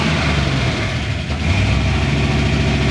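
A Ford Bronco engine runs steadily close by, a low rumbling idle with a dense continuous drone and no strong rev swell, loud and alone without voices.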